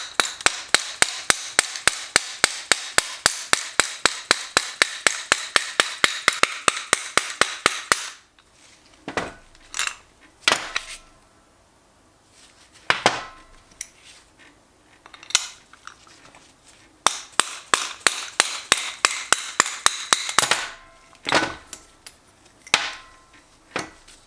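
A piston pin is hammered out of a used 5.3 LS piston using stacked 3/8 extensions as a drift. Fast, evenly spaced sharp metallic taps run in long steady bursts, broken by a few slower, heavier single strikes, loud and close.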